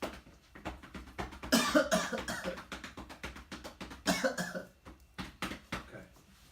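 A person coughs repeatedly on a count during a respiratory therapy session meant to mobilize secretions, giving a run of close, fairly loud coughs in irregular bursts across the clip.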